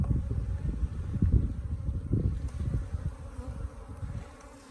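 Bees from an Africanized hybrid colony swarm around an open hive, a dense, steady low buzzing that swells and fades slightly, close to the microphone with some wind noise and no talking.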